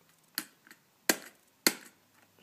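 A Felix Super Pointer computer pointing device gives three crisp, isolated clicks spaced roughly half a second apart, close and clear against near silence, with a softer tap between the first two.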